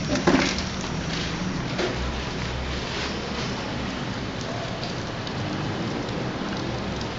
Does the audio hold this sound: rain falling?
yes